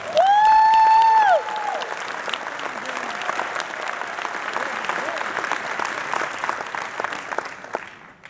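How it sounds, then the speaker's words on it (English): A crowd gives a tribute event a round of applause, sustained clapping of many hands at moderate level lasting several seconds. A short tonal sound opens it before the clapping settles in. "Give us a round of applause."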